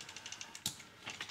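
A small battery-powered 3D-printed walking robot with ratchets in its feet shuffles along, giving faint, quick clicking and ratcheting ticks in an irregular patter, quiet and close with no voices.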